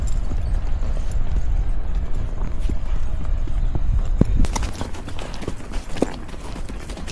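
Hooves of horses in a race in Karnataka pound in a fast, continuous clip-clop, close and loud over a broad rushing background.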